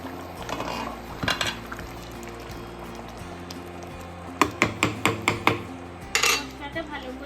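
Metal clanks over a pot of chana masala (kabuli chickpea ghugni) on the stove, with a quick run of sharp taps followed by a final clunk as a lid goes on, over a low kitchen hum.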